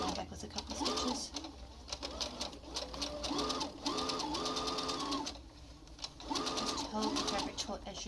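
A sewing machine stitches cotton fabric for a cloth face mask, a steady close mechanical whir running throughout, while someone talks over it in bursts.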